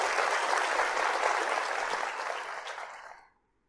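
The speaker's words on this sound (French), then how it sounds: "encore une fois un applaudissement" Audience at a chess commentary session claps in a dense, lively burst that thins and fades out over about three seconds into silence.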